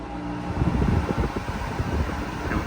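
A Hisense K-D9MW dehumidifier starts up, its fan and compressor producing a steady, close whirring hum with a low rumble and slight fluttering, heard on its own.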